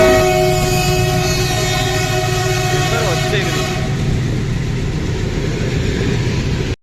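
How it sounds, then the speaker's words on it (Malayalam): A train passes close by near Dudhsagar waterfall on the Goa-Karnataka border, with loud rolling rumble and sustained horn tones that fade toward the end. People talk over it. "ട്രെയിൻ വന്നേ."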